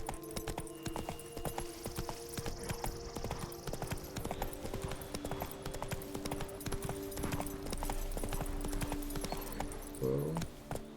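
Roach the horse gallops in Witcher 3 Blood and Wine, a long run of fast, close hoofbeats over outdoor game ambience, ending with a brief tonal effect.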